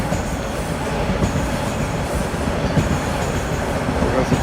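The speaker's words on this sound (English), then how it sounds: "There goes a train racing northbound." A train racing northbound through Rosedale Valley in Toronto, a loud close rumble of wheels and rail noise with faint clatter, passing steadily throughout.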